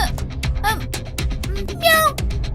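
A person imitates a cat, letting out a drawn, wavering meow-like cry near the end amid clattering noise and other nearby voices talking.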